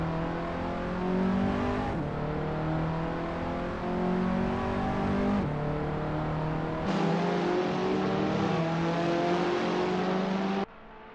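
A race car engine in the Assetto Corsa driving game drones loudly and steadily through a lap. Its pitch rises during sustained acceleration, then drops abruptly at each upshift, about every few seconds, with no voices.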